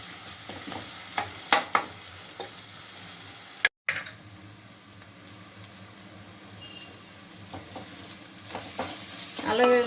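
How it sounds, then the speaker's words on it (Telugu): A spoonful of ginger garlic paste sizzles and fries in oil in a pan, with a steady crackle, occasional stirring scrapes and one brief gap, growing slightly louder at the end. "ఒక స్పూన్ అల్లం వెల్లుల్లి పేస్ట్ పచ్చి వాసన పడే వరకు ఫ్రై చేసుకోవాలి"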